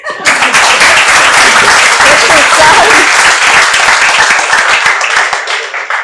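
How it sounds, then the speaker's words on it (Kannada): An audience in a Kannada-speaking hall gives a loud, sustained round of applause, dense close clapping that fills the whole stretch at steady volume, with voices faintly mixed in. "ಒಂದು ಜೋರ ಒಂದು ಚಪ್ಪಾಳೆ ತಟ್ರಿ."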